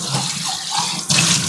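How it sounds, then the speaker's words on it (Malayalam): Water is poured into a cooking pot that is boiling on a home stove. A steady, close rush of running water grows noticeably louder partway through, with no talking. "കുറച്ചും കൂടി വെള്ളം അതിൽ ഒഴിക്കട്ടെ,"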